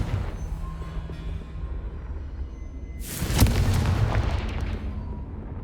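A Confringo explosive spell in the Hogwarts Legacy video game bursts loudly and close, a sharp blast followed by a rumbling roar that slowly fades, after a stretch of low ambient rumble.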